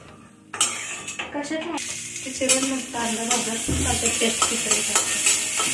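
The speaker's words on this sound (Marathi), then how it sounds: "अद्रक पण भाजायचं." Chopped ginger and garlic roast in a home kitchen pan. After a brief quiet start, a bright sizzle builds under repeated clattering, scraping stirs that grow steadier toward the end.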